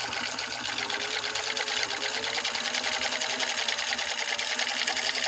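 A Husqvarna 21A sewing machine runs a stitch line, a loud, steady, fast mechanical whir and rapid needle chatter that carries on unbroken and close up, with no talking.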